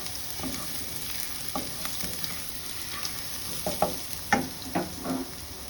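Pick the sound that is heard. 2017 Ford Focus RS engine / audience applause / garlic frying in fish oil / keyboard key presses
garlic frying in fish oil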